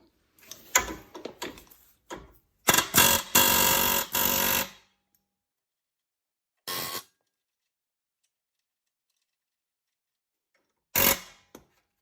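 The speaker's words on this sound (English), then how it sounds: "you can use an air gun, air hammer to knock those out" Bursts of harsh pneumatic air-hammer blows knocking out front suspension ball joints on a 2012 Hyundai Tucson, short rapid runs, then a few separate blasts after long silent gaps, close and loud.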